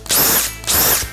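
Two loud, close bursts of a power drill whining as it bores 3mm holes into wood, each about half a second, separated by a brief pause.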